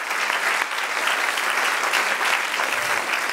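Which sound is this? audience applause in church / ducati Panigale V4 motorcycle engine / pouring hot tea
audience applause in church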